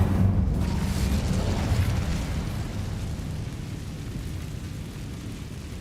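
Incendio fire spell cast in the video game Hogwarts Legacy: a loud, dense roaring burst of flame that starts at full strength and holds as a steady rushing blaze, fading only slightly toward the end.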